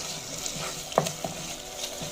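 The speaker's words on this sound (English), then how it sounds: "I'm going in with my tomato paste. So I'm going to give it a good stir and let it cook well" Tomato paste and minced beef are stirred in a hot pan, with a steady sizzle and a couple of distinct scraping stirs close by.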